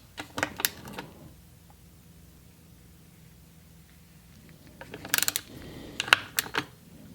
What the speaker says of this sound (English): My little bolts in here. I'll torque these down to like 7 foot-pounds.